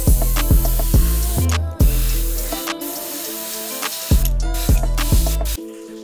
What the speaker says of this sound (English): My spray paint's a bit broken